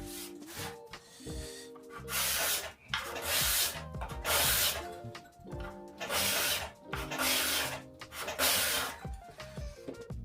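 Card scraper drawn across walnut in a series of long rasping strokes, each a loud broadband shave with short pauses between, close up and alone with steady tonal hum underneath.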